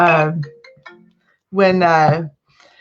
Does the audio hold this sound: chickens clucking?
no